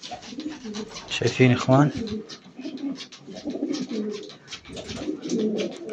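Pigeons coo in soft, repeated low phrases at close range, mixed with light rustling while someone speaks over them briefly.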